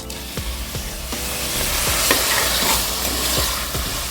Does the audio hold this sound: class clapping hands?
no